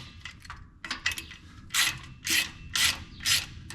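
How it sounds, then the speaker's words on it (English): Socket ratchet loosening brake bolts on an Oliver 77 tractor, heard as close, bursty clicking and rasping strokes, about four strong pulls in a steady rhythm after lighter ticking. "I gotta find my socket. Should be able to take these bolts out now."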